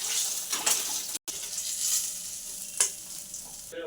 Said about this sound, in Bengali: এদিকে তেল দিয়ে দিচ্ছি, কড়াটা গরম হয়ে গেছে, মাছের মাথাগুলো দিয়ে দেবো